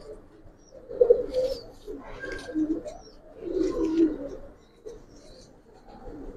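Giribaz pigeons coo in several soft, throaty bursts close by, with pauses between the rounds of calls.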